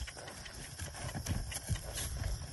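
Horse hooves thud in a steady, plodding rhythm as a western-trained mare is backed up in an arena, moderately close with low background noise throughout.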